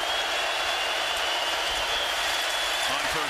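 Stadium crowd noise at a CFL football game between the BC Lions and Saskatchewan Roughriders, a broad steady roar that swells slightly, with no voices above it.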